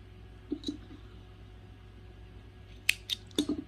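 Scissors cutting crochet yarn: a couple of soft snips early on, then a pause and a cluster of sharp clicks and snips near the end, close and quiet over a faint background hum.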